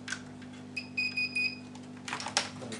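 Continuity buzzer of a multimeter beeping during repair of an Acer E1-472 laptop that won't turn on, giving a few short high tones in quick succession over a steady electrical hum, followed by faint handling noises.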